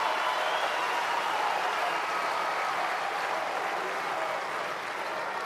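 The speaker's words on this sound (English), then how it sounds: "Yeah, you deserve that applause" A stadium crowd at a United Cup tennis match in Perth applauds player Olga Danilovic with an even, sustained wash of clapping heard from a distance.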